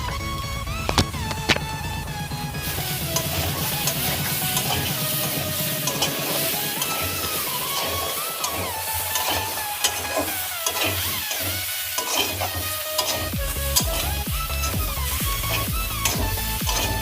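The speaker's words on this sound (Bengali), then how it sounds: "মশলাটা ভাজা হয়ে গেছে" Ground ginger, cumin and chilli paste fries in a wok with a continuous crackling sizzle, broken by repeated scraping and clinking of stirring throughout.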